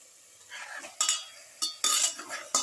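Lamb ribs are tossed and stirred by hand into a marinade in a bowl, giving soft wet squelching with several sharper clacks of a utensil against the bowl, close and fairly quiet.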